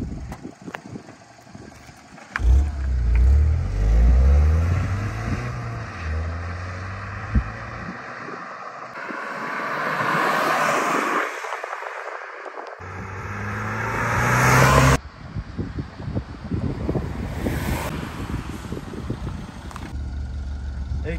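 A Peugeot 208 GTI pulls away and accelerates hard, its engine note climbing through several rising revs with gear changes, close and loud, then settling into a steady cruising drone with road noise.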